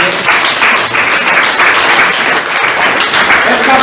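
Audience applause at a literary evening at the Writers' House in Tbilisi: sustained dense clapping from a seated crowd, steady and loud throughout with no pause.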